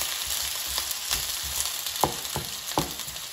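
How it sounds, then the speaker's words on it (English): Steady, dense sizzle of potatoes frying in hot oil in a skillet, with a few soft scraping stirs. "now the pan is heated up and you can hear the oil sizzling"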